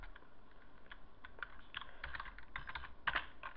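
Soft keystrokes on a computer keyboard come in quick uneven bursts as a layer name is typed, quiet and close, with no talking.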